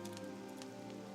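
Steady rain falls in a modded Animal Crossing: New Horizons game, raindrops pattering on the ground as a dense continuous wash, with no voices.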